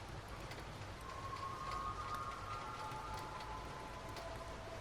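Steady rain falls with a soft, even hiss that lasts throughout. It sounds faint and far, with no voices over it.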